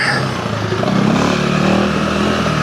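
Off-road motorcycle engine, a Honda CRF300L or KTM 390 Enduro R, droning steadily and loud up close as the bike is ridden over dips and rails, with the revs rising and easing throughout.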